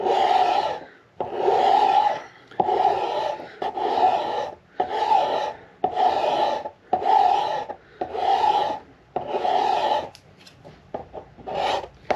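A rasp files down the neck of a 1937 Martin D18 Authentic guitar in about nine steady back-and-forth scraping strokes, roughly one per second, close and loud, trailing off into lighter, shorter scrapes.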